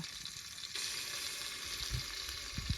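Garlic-onion paste and tomato fry in a pan, giving a steady bright sizzle that swells partway through, with a few soft low knocks from stirring near the end.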